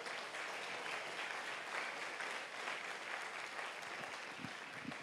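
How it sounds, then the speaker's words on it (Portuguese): A church congregation claps steadily throughout, a dense, continuous wash of applause that stays even in level, with no talk over it. "Dê uma salva de palmas para o Senhor."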